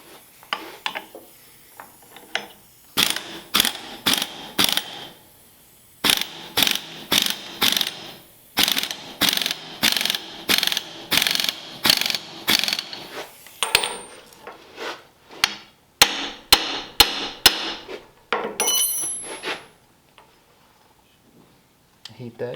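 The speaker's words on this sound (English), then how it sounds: "I can just give it a couple hammers on the end of the bolt here to shock it with some tension" Repeated hammer blows strike the end of a bolt to shock a pulley loose in a shop, coming as loud, sharp metallic bursts in quick groups with brief pauses between, rattling clinks trailing off near the end.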